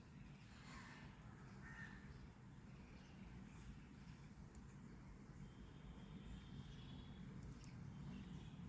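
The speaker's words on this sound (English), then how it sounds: "Today we have lots of parrots around our house, so sorry for the disturbance." Parrots call around a house, their scattered squawks and chirps coming faint and distant over a steady windy hum, with no voices.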